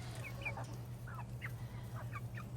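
Chocolate Orpington chicks cheep and cluck in short, scattered bursts close by, a few soft high calls repeating over a steady low background hum.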